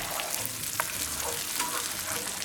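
Butter and sugar melt into caramel in a cast iron pan with a soft steady sizzle and light bubbling crackles, fairly quiet and close.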